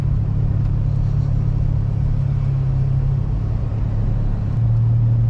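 A widebody Honda EM2 drives through snow, its engine a loud, steady, low drone with a constant rumble throughout.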